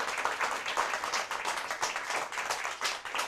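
Audience applause at a school math championship, a continuous patter of many hands clapping, fairly quiet and steady for the whole stretch.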